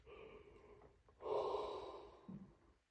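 A long, drawn-out yawn from a man late at night, a breathy exhale swelling to its loudest in the middle and then tapering, followed by a short low sigh at the end, close and intimate with no talking.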